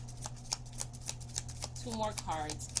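Tarot cards being shuffled and drawn from the deck, rapid flicking riffles in a quick rhythm close to the microphone, with a voice speaking briefly near the end.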